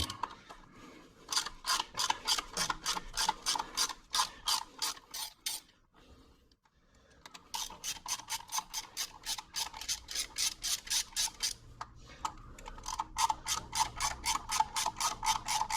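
A ratchet wrench removes bolts from a 1962 GMC engine, with rapid, crisp clicking in long runs, a short pause midway, then more steady ratcheting, close and alone.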